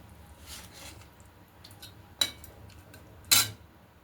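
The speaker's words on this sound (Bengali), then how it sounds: "একটু নেড়ে দিচ্ছি।" A spoon stirs chicken curry in a pan, giving soft scraping swishes and two sharp metallic clinks against the pan, close and otherwise quiet.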